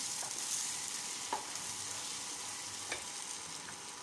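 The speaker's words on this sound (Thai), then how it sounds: "เดี๋ยวใส่ไข่ลงไปเลยค่ะ ก็ยีให้ไข่แตกนะคะ" Egg fries in a hot pan with garlic, a continuous close sizzle broken by a few light scrapes of a spatula stirring and breaking it up, with no talking.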